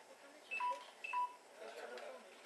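A telephone beeping during home baking, two short pairs of electronic tones close by, over faint room noise.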